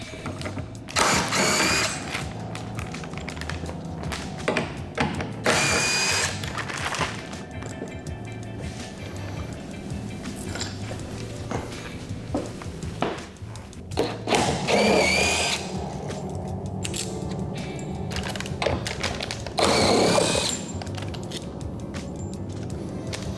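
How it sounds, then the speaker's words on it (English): Screws being backed out of the wooden shipping crate holding a Ritmüller GH188R grand piano: intermittent ratcheting and whirring power-driver bursts with creaks and clunks between them, close by, with no talking. "we have to remove a couple other screws to get this one off"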